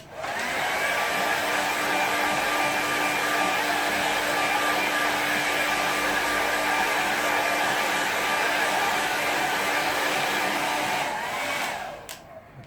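A hair dryer blows steadily over a wet watercolour painting, a loud constant whir lasting about twelve seconds before cutting off, with no one speaking.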